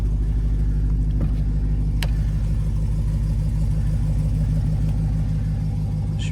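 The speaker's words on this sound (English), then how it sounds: "Great sounding exhaust." A 2020 Dodge Challenger SRT Super Stock engine and exhaust drone in a steady, deep rumble, just after a cold start, with a constant low throb and no revving.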